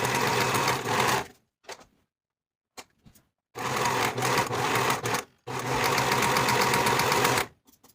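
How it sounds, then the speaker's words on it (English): A sewing machine finishing the raw edges of linen pocket pieces for a shift dress runs in three loud, steady bursts of stitching, the first one short and the next two longer, with quiet gaps holding faint handling noises. "I'm going to finish the raw edges all the way around for all 4 pocket pieces."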